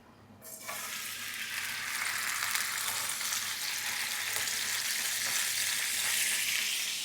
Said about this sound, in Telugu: కిస్మిస్ నీళ్ళు ఉంచేసి దాంట్లో అయితే వేస్తాను.